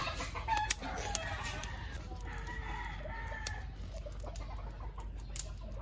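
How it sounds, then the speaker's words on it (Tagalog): Several fighting roosters cluck and crow around a farmyard, some close and some farther off, with scattered sharp calls over a low background hum. "Ang dami dyan, manok na panabong."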